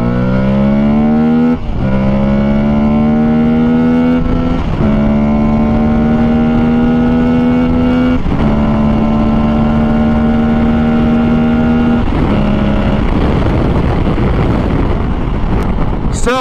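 Aprilia Tuareg 660 motorcycle at full throttle in urban mode on damp, drizzly roads, its engine note climbing steadily through several upshifts with brief dips between gears, loud and close over steady wind rush, no talking.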